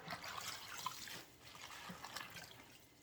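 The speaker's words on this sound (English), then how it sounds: "And then we're going to rinse." Collard greens rinsed under running water in a sink, a quiet, steady trickle and splash with faint dripping and soft handling noises, no talking.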